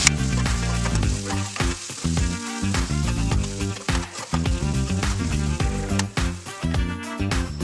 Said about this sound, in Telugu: సో 2 నిమిషాల తర్వాత మళ్ళీ ఒకసారి నేను కలుపుతున్నాను